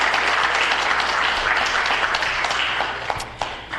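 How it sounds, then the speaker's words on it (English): Applause from an audience at a city council meeting, a steady wash of many hands clapping that holds for several seconds and then thins out toward the end. "Let's give them a round of applause"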